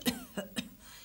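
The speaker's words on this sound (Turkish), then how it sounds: "Öksürür dedi, öksürdüm." Three short, close coughs from a person in a domestic comedy scene, spaced evenly and then fading to a quiet room.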